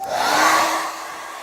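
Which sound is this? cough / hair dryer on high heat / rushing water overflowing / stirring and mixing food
hair dryer on high heat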